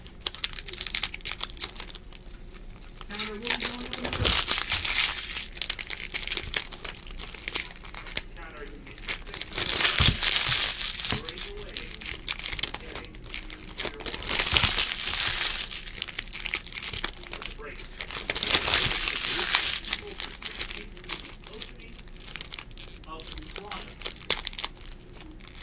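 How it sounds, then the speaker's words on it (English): Baseball card packs being torn open and foil wrappers crinkled and crushed, continuous close rustling and ripping with a voice talking over it at points. "Plus, you get to hear the relaxing sound of packs being opened."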